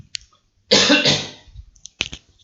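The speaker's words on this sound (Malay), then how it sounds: "Minta maaf, batuk." A single harsh cough bursts out loud and close, followed by a few faint clicks and a sharp short noise near the end.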